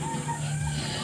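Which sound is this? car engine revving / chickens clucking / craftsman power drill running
chickens clucking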